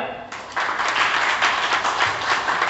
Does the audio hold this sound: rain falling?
no